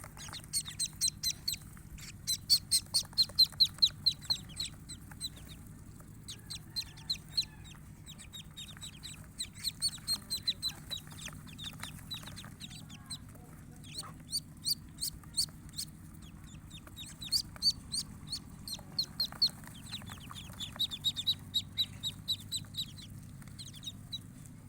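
Chicks and ducklings chirping together, rapid bursts of high peeping repeating over nearly half a minute above a low steady hum.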